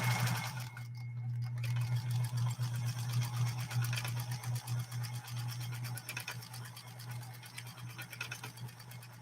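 A Pfaff 130-6 sewing machine runs steadily, its rapid needle stroke making a fine, even chattering hum close to the microphone that slows and stutters toward the end.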